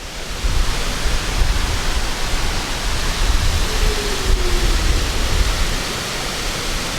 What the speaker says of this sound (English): I love how tall that waterfall is.